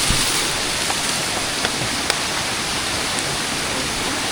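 Tumpak Sewu waterfall in Java, Indonesia, a steady, dense roar of falling water heard close by, broad and unbroken throughout with a few faint clicks on top.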